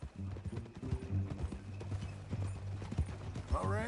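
Horse hooves clip-clop steadily in Red Dead Redemption 2, close and rhythmic, with a low droning game score underneath and a brief rising tone near the end.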